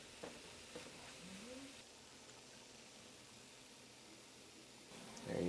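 Breakfast scramble with cheese sizzling in a pan as it is stirred, a steady low frying hiss with a few soft scrapes near the start and a louder clatter at the end.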